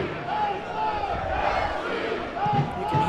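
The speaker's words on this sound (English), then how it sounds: "You can hear the crowd booming, bringing their team onward." A stadium crowd at a Phoenix Rising soccer match roars continuously, a broad booming wash of cheering voices, with some faint talk mixed into the din.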